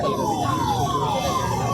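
An ambulance siren wails continuously at close range in a crowded street in Hazaribagh, its repeating falling tone sweeping over dense crowd and traffic noise.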